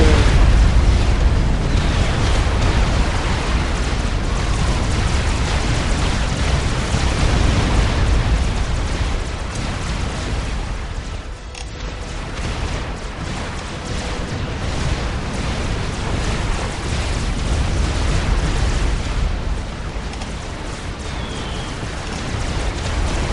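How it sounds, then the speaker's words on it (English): Bombs exploding in the real-time strategy game Supreme Commander, a continuous rumbling barrage of deep blasts and crackling debris, loud and sustained with a brief dip midway. "Bombs away!"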